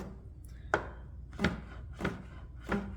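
A knife chops vegetables for a Caribbean salad on a board, with four or five evenly spaced, close, crisp strikes in a steady rhythm.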